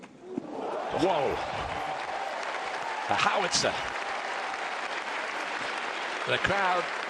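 A tennis crowd at the Roland Garros final breaks into loud applause and cheering that swells and carries on, with a few sharp shouts, while a commentator talks over it.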